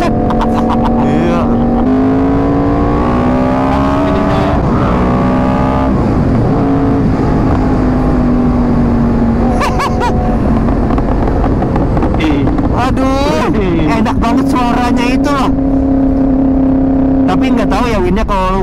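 A modified car engine revving repeatedly with popping exhaust backfire crackles, loud and close, with rising and falling engine pitch and sharp bursts of pops between revs.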